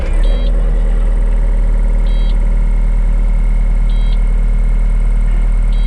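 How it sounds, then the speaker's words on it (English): A skid steer's glow-plug diesel engine runs in frozen winter conditions with a loud, steady, close idle and a deep constant rumble, broken by faint periodic beeps. "So let's go get the skid steer started"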